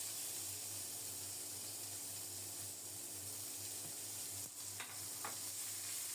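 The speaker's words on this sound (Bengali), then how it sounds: "নেড়ে চেড়ে পেঁয়াজটাকে একটু বাদামি করে ভেজে নেব।" Chopped onion frying in a little oil with black cumin seed, stirred in the pan, making a soft, steady hiss with a low hum beneath and a few brief scraping clicks near the end.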